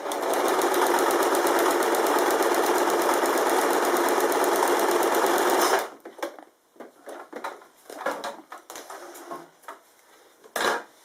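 A sewing machine stitches rows across quilt fabric, a loud steady rapid whirring chatter lasting nearly six seconds, then it stops, leaving sparse clicks and handling rustles.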